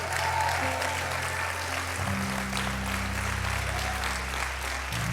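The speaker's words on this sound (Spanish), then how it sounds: "den un aplauso fuerte al Señor." A church congregation claps loudly, a dense steady applause that fills the whole stretch, with a low organ or keyboard drone underneath.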